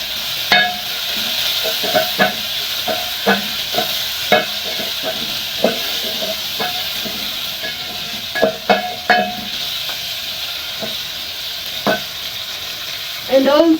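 Garlic sizzles in a pan with onions already fried brown, a constant close frying hiss broken by repeated sharp scrapes and clinks of a utensil stirring against the pan.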